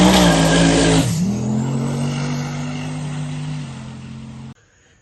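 Drag race car making a pass down the strip, heard as a loud roaring engine burst for about a second, then a sudden pitch drop into a steady, fading engine drone before it cuts off abruptly.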